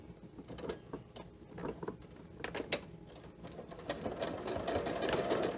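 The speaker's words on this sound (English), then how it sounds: "So now I just have to sew these three pieces together." A sewing machine stitches quilt pieces together for a heart table runner, its needle running in a steady mechanical patter with small clicks and creaks, moderately quiet and building slightly toward the end, no voices.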